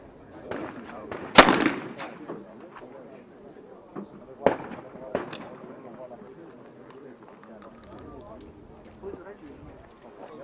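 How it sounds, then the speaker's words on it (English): Shotgun test shots at a women's trap shooting World Cup final in Cyprus: a few sharp, separate reports with one loudest early, heard outdoors over low background murmur and voices. "These are some test shots."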